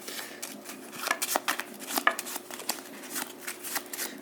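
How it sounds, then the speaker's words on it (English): A deck of playing cards being shuffled, a quiet, close series of quick riffling and snapping bursts in an irregular rhythm with no talking. "And you can see, shuffling."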